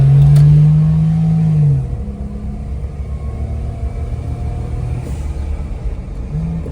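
Suzuki Jimny fitted with a cold air intake accelerating hard, a loud close engine drone that holds steady briefly, then drops into a lower, continuous road rumble as the revs settle.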